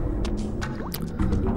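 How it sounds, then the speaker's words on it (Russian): Blood drips in a sewer in Legacy of Kain: Blood Omen 2, a few close, wet drops landing over a steady low ambient hum. "смотрите, капает кровь"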